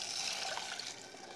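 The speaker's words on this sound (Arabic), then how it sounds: "وهزود هنا ميه" Water pours steadily into a cooking pot with tomato and aromatics for a stovetop molokhia dish, a soft continuous splashing stream at close range with no talking.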